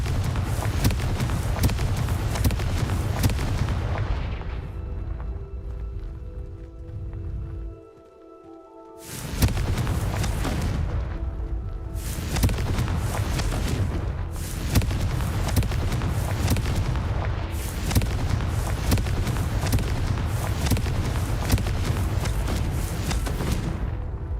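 Hogwarts Legacy's Confringo fire spell bursts into loud, dense explosive roars, with a brief lull near eight seconds before repeated blasts resume and continue to the end.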